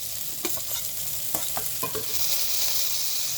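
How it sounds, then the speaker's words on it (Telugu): Garlic sizzling and frying in a pan of browning onion for a spinach-onion curry, with a steady close hiss and a few soft clinks of a spoon stirring, no voices. "ఇప్పుడు వెల్లుల్లి వేసుకుందాము."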